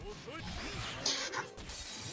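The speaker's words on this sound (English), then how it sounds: "He's shooting a lot of glass." Glass shards fired by a fighter in JoJo's Bizarre Adventure: Heritage for the Future, a 2D arcade fighting game, burst as a dense stream of crashing, shattering hits over continuous game noise, with a sharper crash near the middle.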